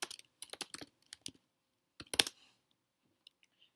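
Keystrokes on a computer keyboard as a questionnaire name is typed: quick bursts of close, crisp clicks, a pause, then another fast run and a few scattered taps, with no voices.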